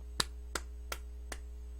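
Four sharp claps ring out at a slow, even pace over a steady low electrical hum, fairly quiet and close.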